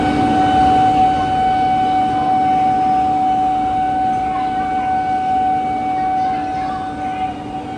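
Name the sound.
Bandra–Jaipur nonstop special train departing, hauled by WG9 goods locomotive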